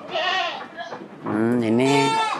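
Boer goats bleat in wavering, nasal calls, one short cry followed by a longer, louder bleat, close by.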